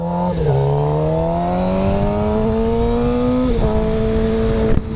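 A Suzuki GSX-R750 motorcycle engine pulls hard through the gears, its loud rising whine climbing steadily, dipping briefly at each shift, then climbing again, heard close and alone.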